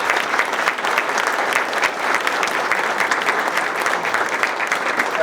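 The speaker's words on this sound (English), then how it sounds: "Give them a round of applause." Sustained applause from a large audience honoring the priests of Philadelphia at an archbishop's introduction, a steady dense wash of clapping that holds evenly throughout with no talk over it.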